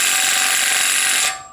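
A GM Performance impact wrench with a 1.25 inch socket spins steadily on the tight CV axle nut of a 2017 Ford Fusion, a loud continuous whirring whine that stops abruptly after just over a second.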